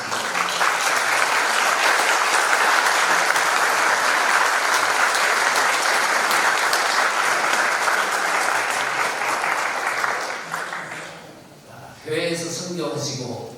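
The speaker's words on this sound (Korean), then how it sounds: "박수로 환영드리겠습니다." A large gathering at a national pastors' fellowship evening worship service applauds in welcome for a seminary president, staff and students, long, loud, even clapping that tapers near the end before a voice speaks.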